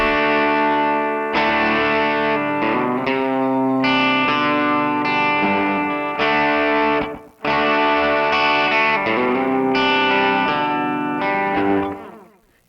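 Electric guitar played through a Yamaha THR10ii amp preset with tape echo and light compression, a twangy, Telecaster-like tone: sustained strummed chords ringing with echo, a brief pause midway, then more chords fading out at the end.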